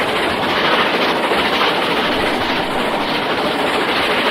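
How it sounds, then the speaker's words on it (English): The steam locomotive Dominion of Canada races through Newton Prior station with a loud, close, continuous rushing roar and rumble that holds steady for the whole stretch. "As Dominion of Canada races through Newton Pryor, we can appreciate the flowing lines of the locomotive."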